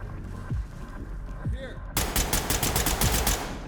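Firefight in the Ready or Not tactical shooter: a few isolated thuds and shots under quiet voices, then a dense, loud burst of rapid automatic gunfire at close range.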